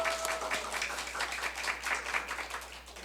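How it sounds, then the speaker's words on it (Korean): A church congregation gives a short burst of steady, moderately distant applause to welcome a first-time visitor during a Sunday service. "우리 박수로 환영하겠습니다"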